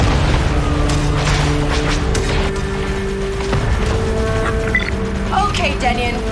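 In the Star Wars Outlaws video game, a turbolaser is destroyed with heavy booming blasts and crashing debris amid a dense layer of battle noise and electronic tones, loud and close.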